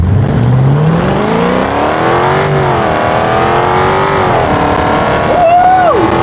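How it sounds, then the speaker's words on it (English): Engine note of a V8 luxury car in BeamNG Drive, rising and falling as it revs and pulls away, loud and continuous with a rising whine near the end. "This luxury car got a V8 in it"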